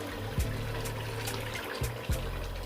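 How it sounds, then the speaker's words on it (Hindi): Half a glass of water pours into a pot of chicken biryani with potatoes: a continuous splashing, rushing pour lasts nearly three seconds, marked by a few brief clunks or knocks. "अब इसमें आधा गिलास पानी ऐड करके"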